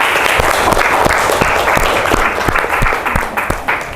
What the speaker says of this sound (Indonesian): Beri tepuk tangan juga ke Mutia.